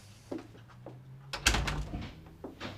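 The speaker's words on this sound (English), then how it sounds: "She didn't slam the door, that's good." A door closed gently rather than slammed, heard at moderate distance in a quiet room as a single soft thud with light rattling, preceded by faint footsteps and small knocks.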